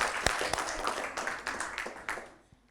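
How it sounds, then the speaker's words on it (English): A small group claps together for a correct quiz answer at a scouts gathering, a burst of loose, uneven hand claps rising and falling over about three seconds, close by and fading out at the end. "Let's clap for him."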